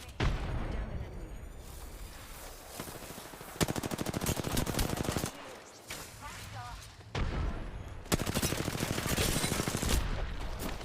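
Video game gunfire crackles in repeated automatic bursts and single shots, loud and close, with pauses between volleys.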